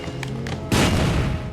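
A grenade explodes in the Saints Row 2 video game, a sudden loud boom with a rumbling tail that follows some lighter game sounds.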